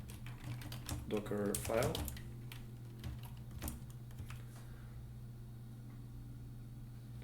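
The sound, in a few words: typing on a computer keyboard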